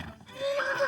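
Horse in Kingdom Come Deliverance 2 giving a short, rising whinny that lasts under a second, fairly close and clear with nothing else over it.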